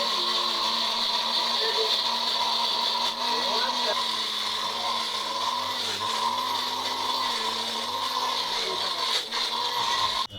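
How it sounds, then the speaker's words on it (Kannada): A small mixer grinder whirs steadily while it grinds masala for prawn ghee roast, a continuous high motor whine that holds for about ten seconds and ends in a final clatter. "ಛೋಟಾ ಮಿಕ್ಸಿ."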